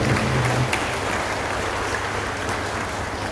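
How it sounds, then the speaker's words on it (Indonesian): Congregation applauding the parish council members and their families at a parish anniversary Mass, a steady wash of many hands clapping that carries evenly throughout, with a low hum underneath. "Tepuk tangan untuk mereka dan keluarganya."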